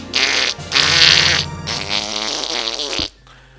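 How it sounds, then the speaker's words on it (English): Cartoonish fart-attack sound effect from Zelda: Majora's Mask, a long, loud, buzzy sputter in two or three sustained bursts over about three seconds, with no talk over it. "You messed up the fart attack!"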